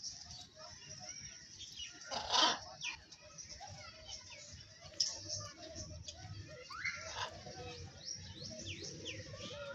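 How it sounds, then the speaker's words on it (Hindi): Parrots in a park give faint, scattered chirps and squawks over a soft outdoor murmur of distant voices, with one louder burst of calls. "यहाँ पे एक और चीज़ भी है जो कि ये पैरट्स हैं।"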